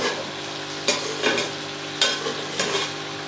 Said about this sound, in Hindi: इसको थोड़ा सा मिक्स कर लें।